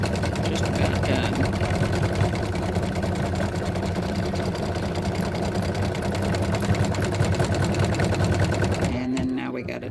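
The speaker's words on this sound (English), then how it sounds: "Doing the satin stitching, so he's just about done." Embroidery sewing machine doing satin stitching on a freestanding lace spider design, a steady rapid mechanical whir with constant needle rhythm, close and loud, stopping abruptly just before the end.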